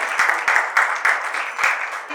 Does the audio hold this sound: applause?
yes